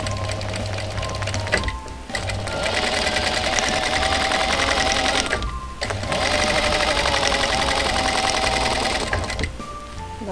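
A sewing machine stitches a quilt seam guided along an oval quilting ruler, running in steady rapid bursts with two brief pauses, close and loud, with no talking.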